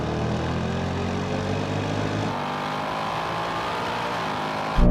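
Ford Mustangs accelerating hard down a drag strip, a dense, loud engine roar sustained throughout and then easing slightly partway through, with no voices.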